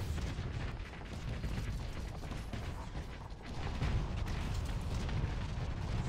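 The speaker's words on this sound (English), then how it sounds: "That is a lot of high explosive missiles coming in." High explosive missiles exploding in the space combat game Starsector, a dense, continuous rumble of blasts and mechanical creaks, heavy and low with no clear pause, swelling slightly toward the end.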